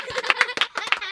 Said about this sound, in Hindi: इनके लिए ताली बजाओ, ताली।